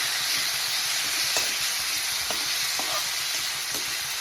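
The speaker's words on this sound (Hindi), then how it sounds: "इसे भी मसाले के साथ अच्छे से भून लीजिए" Chopped tomatoes with spices fry in a pan for baingan bharta, making a loud, continuous sizzle close up, with scattered scrapes and taps from stirring throughout.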